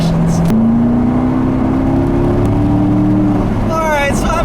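A 2017 Corvette Grand Sport C7 on the move, its engine droning loud and close with a steadily rising pitch and a sharp shift partway through, heard from inside the car.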